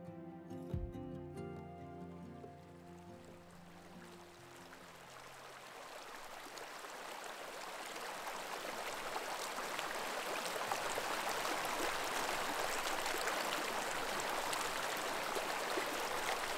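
A mountain creek flows steadily through the greater Yellowstone area of Wyoming, a broad rushing hiss that grows fuller and louder as a brief low musical tone fades at the start, with no voices.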